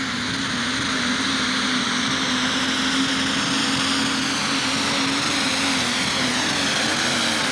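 Alcohol-burning super stock pulling tractor in the 6,000 lb class at a 1995 Madisonville, Kentucky pulling event, its engine a loud, steady, sustained roar with a constant droning tone throughout and no voices.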